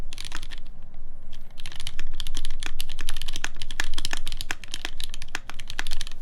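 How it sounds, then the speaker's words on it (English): Fast typing on a Singa Unikorn R2.1 mechanical keyboard with a flat-sounding spacebar, dense sharp clacking keystrokes in quick irregular bursts, close and loud over a low background hum. "Why is the spacebar sounding so flat?"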